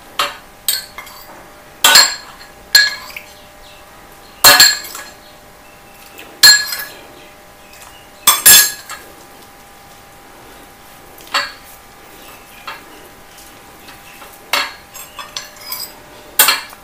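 Henna hair dye being mixed with a decoction in a bowl gives sharp, irregular clinks and scrapes of a utensil against the bowl, spaced every second or two over a quiet background, with no talking.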